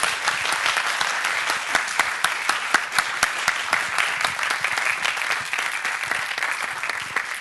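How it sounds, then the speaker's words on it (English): An audience gives conference panelists a round of applause, brisk, fairly loud clapping from a mid-sized crowd that carries on steadily without voices. "Maybe a round of applause for our panelists"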